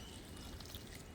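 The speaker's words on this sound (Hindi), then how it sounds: "हमारी जो ये सरसों की खली की खाद है वो डाल दी है" Liquid fertilizer made from mustard cake is poured onto plants, a short, steady, soft splashing pour heard close with no voices.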